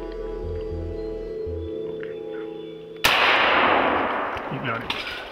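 A single loud gunshot cracks out during a bear hunt, a sharp broadband blast breaking a quiet spell of low hum, followed by a long rolling echo that decays over a couple of seconds.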